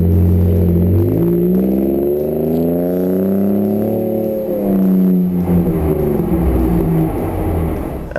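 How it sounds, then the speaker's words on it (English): A turbocharged 2017 Ford F-150 Raptor pickup engine revs up through rising harmonic tones, easing off and then pulling again, with a turbo whistle on top and steady loud drive noise throughout. "now you're getting that turbo sound, which in my opinion makes up for it"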